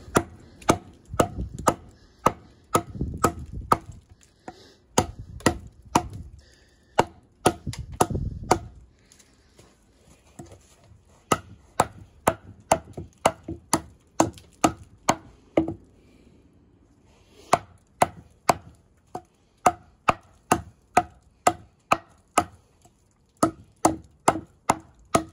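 An Eafengrow EF-137 big-belly knife in N690 steel is driven through wood, splitting it with loud, crisp, rapid strikes in repeated bursts and short pauses, close and alone.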